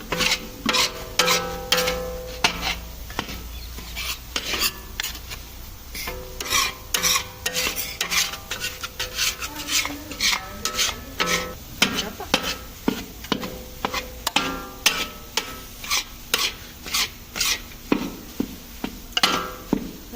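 Panjiri mixture with herbal ingredients and edible gum is stirred in a hot pan, producing a long run of rhythmic metallic scrapes and clinks against the pan over a faint sizzle, close and steady.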